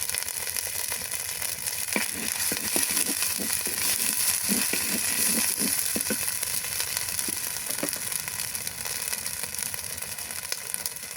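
Ginger, garlic and cumin paste fries in a pan with a steady, close sizzle and scattered crackles and pops from the hot oil.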